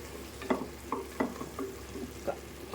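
A spoon stirs turmeric, chili powder, coriander powder and salt into tomato rice frying in a pan, giving a soft sizzle under several distinct scraping strokes at a steady rhythm.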